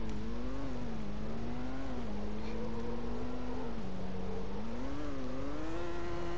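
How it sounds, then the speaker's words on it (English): A car drifts in CarX Drift Racing Online with a steady, droning engine held at high revs. The engine note rises and dips as the throttle shifts, loud and close, with no talking. "Like, this is it drifting now."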